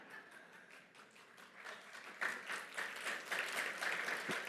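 Audience applause at an annual general assembly, steady and moderately distant, swells slightly louder partway through.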